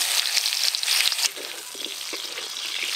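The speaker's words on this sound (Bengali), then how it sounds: "মাংসের আলু যেরকম লাল লাল করে ভাজি সেরকম করে এই মাছের আলুগুলো ভেজে নেব" Potato pieces frying in hot oil left over from frying black pomfret fish, a loud, bright, continuous sizzle that settles to a softer crackle partway through, with faint stirring clicks.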